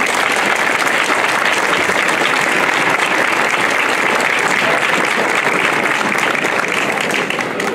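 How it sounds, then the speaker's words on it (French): A crowd at an outdoor transhumance festival applauds loudly, a thick, sustained roar of clapping that stays strong and even throughout. "Et je vous demande de les applaudir très fort."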